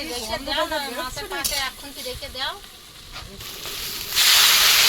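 Vegetables with a bay leaf sizzle in an oily pan under a speaking voice, a steady hiss that swells loud and bright at the close.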